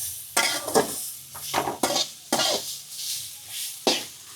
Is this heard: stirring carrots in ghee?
yes